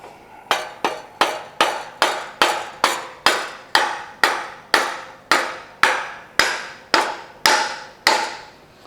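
About sixteen evenly spaced metallic hammer blows drive a new pulley onto a 1969 VW Beetle 1600cc engine, each a sharp ringing strike with a short decay, loud and close in a steady rhythm.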